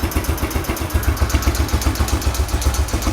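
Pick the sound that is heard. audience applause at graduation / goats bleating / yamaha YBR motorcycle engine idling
yamaha YBR motorcycle engine idling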